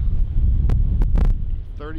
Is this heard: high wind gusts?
yes